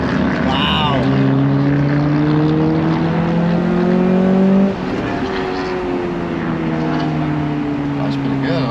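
Honda Prelude engine droning steadily at close range as the car drives along, its pitch rising gradually then dropping sharply at a gear change before climbing again, with voices talking over it.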